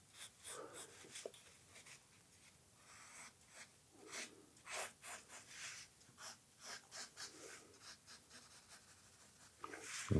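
Pencil strokes scratch across a wooden board as a curved handle outline for a homemade bellows is drawn, in short repeated bursts with quiet breathing in between.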